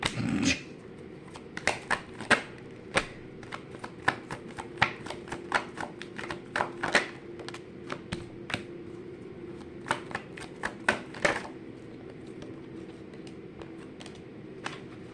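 Tarot cards shuffled by hand, a steady run of crisp riffles and taps, close and clear, with brief pauses and no voices.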